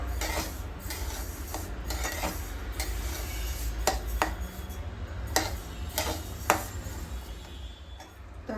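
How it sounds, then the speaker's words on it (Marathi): Sesame seeds dry-roasting in a pan for tilgul ladoo, stirred steadily with a spoon that gives repeated scraping ticks and light clinks against the metal, over a low continuous hum, no talking. "असं सारखं हलवत राहायचं आहे थोडा वेळ लागेल पण व्यवस्थित भाजायचं आहे तीळ"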